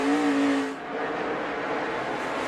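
A NASCAR Nationwide Series race car sliding out on a turn exit at the 2013 Nationwide Children's Hospital 200, its engine a loud, steady roar that drops slightly in pitch partway through, close and continuous with no talk.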